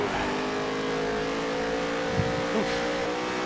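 A NASCAR Heat 3 race car drones steadily at high revs on a road course, the engine note holding and wavering as the car gets unsettled, with no talk.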